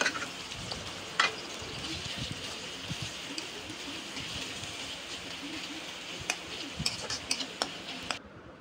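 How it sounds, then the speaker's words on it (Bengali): A paste of onion, garlic and ginger fries in a pan for chicken curry, giving a soft continuous sizzle with scattered ticking and tapping as the spice mix is stirred. "2 চামচ পেঁয়াজ বাটা, 1 চামচ রসুন বাটা, 1 চামচ আদা বাটা দিয়ে মশলাটা একটু ভেজে নিচ্ছি"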